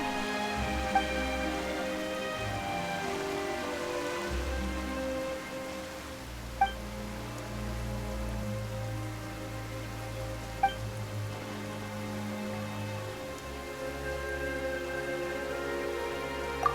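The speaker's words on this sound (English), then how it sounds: "Why is it raining all of a sudden?" Rain falls steadily in the video game Genshin Impact, a soft, even patter that lasts throughout and sits under sustained background music.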